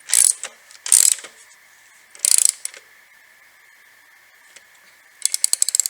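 Ratchet wrench tightening the chain adjuster bolts on a Honda CB500F, short bursts of quick clicking separated by pauses, close and crisp over a faint steady hum, with no talk.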